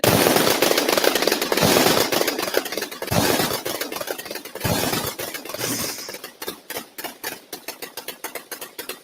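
A gun, built from a parts kit, empties a full magazine outdoors: a loud, fast string of sharp shots runs for several seconds, then slows into separated single reports toward the end.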